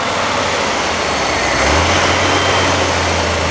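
Corvette engine at a Knoxville Corvette show, a loud steady rumble that climbs in pitch partway through as the engine is revved, with outdoor noise behind it.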